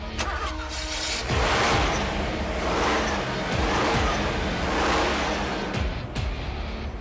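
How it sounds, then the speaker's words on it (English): Mad Max car engine being started after installation and tuning: a steady, loud broadband engine roar runs throughout, with swells and revving surges. "We gotta make sure this thing starts."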